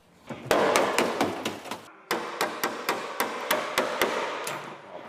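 Rusty, crumbling metal on a classic car body being struck with a hammer during restoration, a steady run of sharp, close, loud blows with a brief pause partway through.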